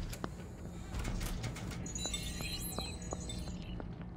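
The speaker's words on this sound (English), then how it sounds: "I'm dislocating then relocating my jaw." A series of soft, sharp clicks and pops from a jaw with a jaw disorder being dislocated and relocated, spaced irregularly over a faint, hissy background; no voices.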